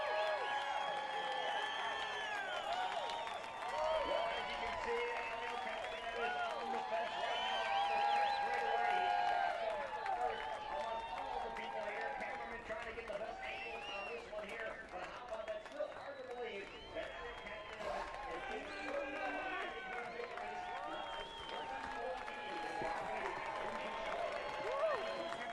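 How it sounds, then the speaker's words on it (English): The crowd at an IndyCar race finish, the 2017 Iowa Corn 300, cheers and applauds as a distant, sustained roar, with a race commentator talking over it the whole time. "Listen to the crowd."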